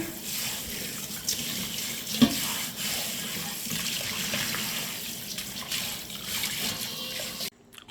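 Soaked urad dal and rice are washed under a running tap for dosa batter, with a steady hiss of flowing water in a sink, one faint knock and a sudden stop at the end.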